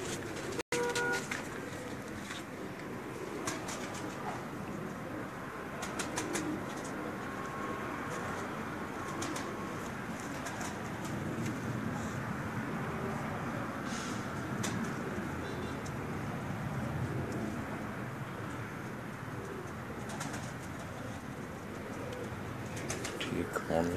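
Soft, low cooing of pigeons in Islamabad repeats over a steady outdoor background hum, with occasional faint rustles and a single sharp click near the start.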